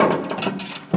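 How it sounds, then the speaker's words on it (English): A ratchet wrench clicks in quick rapid bursts while turning a fastener on a MUSKOX 26-84 snowblower during fan motor replacement, close and crisp with no talking. "And now I'll get my wrench."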